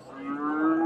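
A single short moo swells louder over under a second. It comes from a cross-bred Friesian bull at a cattle market.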